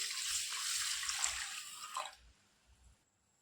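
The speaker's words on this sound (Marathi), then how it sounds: "आता आपण घेतलेली मुगाची डाळ इथं धुवून घेतोय।" Moong dal lentils being rinsed in water, with a steady swishing, splashing wash for about two seconds, then a few soft drips and quiet handling before near silence.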